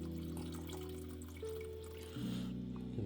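Water from a tap running into a pot for kimchi stew, a steady trickling flow over a low background hum that changes pitch partway through as the pot fills.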